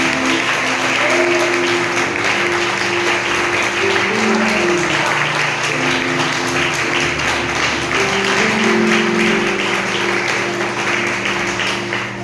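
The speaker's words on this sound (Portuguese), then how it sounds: "Aplaudindo ao Senhor pela presença" Church congregation applauding to welcome Pastor Alexandre at a Wednesday worship service, a steady dense wash of clapping lasting throughout, with sustained music tones underneath.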